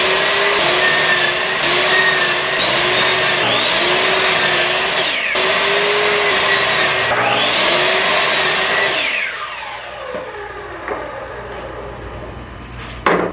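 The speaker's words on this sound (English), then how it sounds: "now on the miter saw, I could just cut this into a bunch of little spots" A miter saw cuts pieces of wood for a budget rolling workbench, its motor whining up and dipping through several close, loud cuts before spinning down into quiet.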